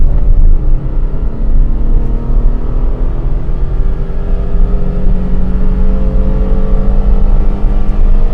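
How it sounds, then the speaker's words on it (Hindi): Car engine revved hard in first gear up to the red line, a loud sustained rumbling drone whose pitch climbs steadily over several seconds, close and continuous without talk. "देखिए मैं फुल एक्सीलरेट कर दूंगा, गाड़ी के आरपीएम रेड लाइन में पहुंच जाएंगे।"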